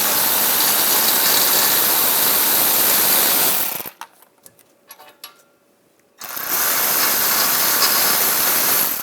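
Rapid clicking of a ratchet driving a triple-square M12 socket to remove hub bolts on a 2009-2017 Volkswagen Tiguan, loud and close in two long runs separated by a short quiet pause with faint handling noises.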